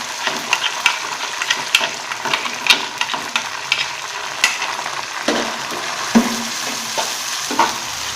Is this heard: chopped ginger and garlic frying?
yes